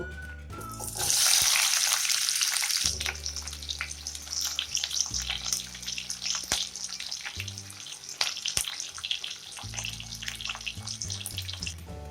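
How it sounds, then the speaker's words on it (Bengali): Chopped onions hit hot oil in a wok for a spicy Mughlai chicken dish, bursting into a loud, close sizzle that settles into a steady crackling fry with scattered clinks. "এবার আমি এর মধ্যে কেটে রাখা পেঁয়াজগুলো দিয়ে দেব।"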